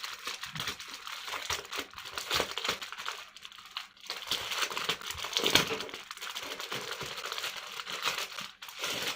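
Plastic bags of cross stitch drills being opened and handled, a continuous loud crinkling and rustling with scattered tiny bead rattles, close and busy throughout, no voices.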